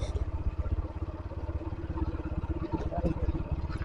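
A river trawler's engine chugs with a fast, steady low thump, fairly faint and slightly rising as it draws nearer along a village riverbank.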